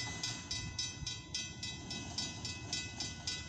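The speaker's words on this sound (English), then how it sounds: "train's coming" A steady rumbling roar of an approaching westbound mixed freight train with a regular rhythmic clatter repeating about every quarter second, fairly close.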